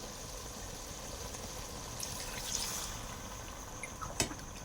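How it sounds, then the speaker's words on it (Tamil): A steady stream of water pours and splashes into a pot of rice, with a few brief clinks and drips near the end. "இப்போ 1 கப் அளவு அரிசிக்கு 3 கிளாஸ் தண்ணி சேர்த்துக்கோங்க. ஊற்று."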